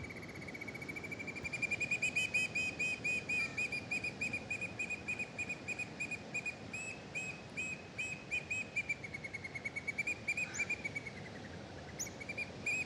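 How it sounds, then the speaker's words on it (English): Outdoors, a repeated high whistling chirp pulses in a fast, steady rhythm, loud and close, running continuously through the whole stretch with no talking. "That was a bird. Did you guys hear that?"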